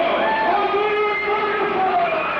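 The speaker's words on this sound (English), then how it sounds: "This crowd is just it's amazing how loud they are tonight" A loud home crowd roars steadily at a 1987-88 high school basketball homecoming game, Gate City vs Marion. The dense, unbroken din of voices fills the gym throughout, with no clear breaks.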